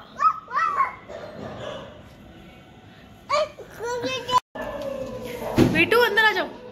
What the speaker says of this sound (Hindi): अरे डॉगी डॉगी डॉगी, डॉगी है